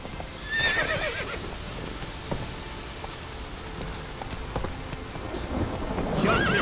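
Horse ridden in The Witcher 3, hooves clip-clopping at a steady pace with a few whinnies and snorts, set against rumbling thunder and rain in the background.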